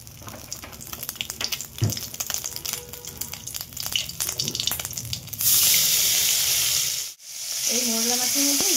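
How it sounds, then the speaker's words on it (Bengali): Prawns frying in hot oil in a wok: dense, loud sizzling with scattered clinks, surging sharply midway, then a brief dip and a return of the crackle. "কড়াই তেল দিয়ে চিংড়ি মাছগুলো ভেজে নেব"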